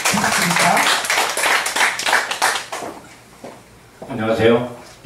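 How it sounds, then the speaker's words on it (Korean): Audience applause at a Bucheon arts talk concert, a few seconds of dense clapping that fades into quieter room noise before a speaker begins talking near the end. "따뜻하게 한번 박수 한번 드려서 부탁드릴까요?"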